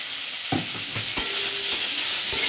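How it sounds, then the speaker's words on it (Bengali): Potato pieces fry in hot oil with cumin seeds and dried red chilli, a bright continuous sizzle close up, punctuated by a few soft scrapes and knocks of a spatula in the pan. "আলুটা একটু লাল লাল করে ভেজে নিই।"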